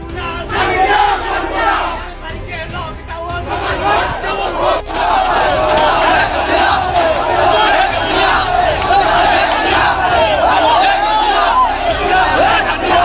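Awami League procession in Dhaka chanting slogans in unison, a dense, loud crowd roar of many voices that carries on without a break, with rhythmic shouting surging throughout.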